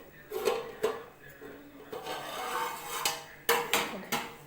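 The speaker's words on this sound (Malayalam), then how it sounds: "ഇനി നമുക്ക് അടപ്പ് തുറന്ന് നോക്കാം" A lid being lifted from a pot of prawn roast, with several clanking metal knocks and scrapes of cookware against a faint kitchen background.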